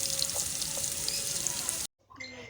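Chopped onion and garlic frying in oil, a dense close sizzle and crackle that cuts off abruptly into near silence, then faint clattering.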